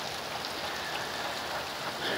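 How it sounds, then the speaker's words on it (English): Torrential rain downpour heard from under a shelter, a steady dense hiss of heavy rainfall with no breaks, fairly loud and close throughout. "right now as I'm sharing this, is a torrential downpour"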